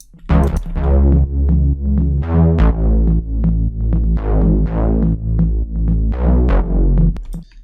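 Synth bass from a house track, playing a run of repeated notes with sharp attacks and a sustained, loud low end over about eight seconds, with no voice.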